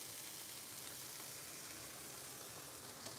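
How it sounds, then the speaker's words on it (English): A frying pan sizzles steadily while SPAM sushi is made for breakfast, a faint, even hiss of hot oil with no voices over it. "When I hear a frying pan sizzle, I always have a Pavlovian response."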